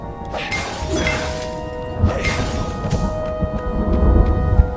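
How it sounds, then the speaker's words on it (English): Deep thunder from the video game Stories: The Path of Destinies rumbles and cracks over a continuous bed of rain, with sharp crashing bursts and a rolling low boom toward the end. "That's that some milk. good thunder sound."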